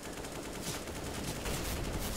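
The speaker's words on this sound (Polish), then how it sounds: "Ostatni strzał Snacksa." Gunfire in the video game Counter-Strike during a professional match, a dense, noisy burst of shots blending into steady broadband clatter, fairly faint and continuous without talk.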